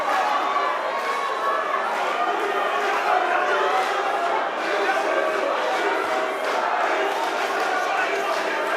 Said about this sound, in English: There's a chant in the crowd.